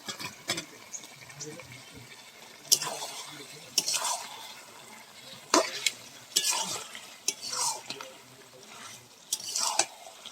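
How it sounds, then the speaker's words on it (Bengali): Potatoes that were fried earlier go into a pan and get stirred, giving repeated scraping and clattering strokes over a soft sizzle with a few louder clanks, heard up close and alone. "এবার আমি ভেজে রাখা আলুটা দিয়ে দিব।"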